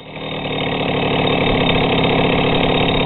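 Soviet Stella 2.136-02 moped engine idling: a steady, close, loud two-stroke putter with an even rapid beat, rising slightly in the first half-second and then holding constant.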